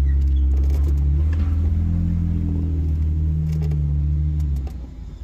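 An off-road vehicle on Hell's Revenge trail has a loud, low engine rumble that revs and holds steady, then drops off near the end.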